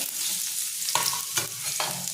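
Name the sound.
onion and curry leaves sizzling in mustard seed tempering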